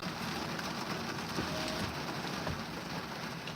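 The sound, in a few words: rain falling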